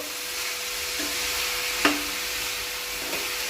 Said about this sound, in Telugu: బఠానీలు వేసుకొని అవి కూడా వేపుకోవాలి, నానబెట్టిన బఠానీలు